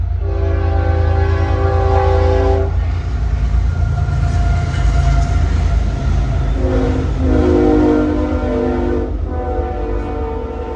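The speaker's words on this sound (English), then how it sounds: "Here comes the train, so I gotta wait a second. It's gonna be loud" A loud train rolls past close by, its heavy rumble underneath several long horn blasts that rise and cut off.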